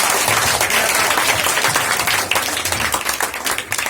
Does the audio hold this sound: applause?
yes